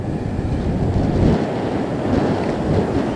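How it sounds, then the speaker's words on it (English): Strong wind buffets an outdoor microphone on a windy day in a steady, loud rumble with gusty swells that fill the whole short stretch. "It's a very windy day today,"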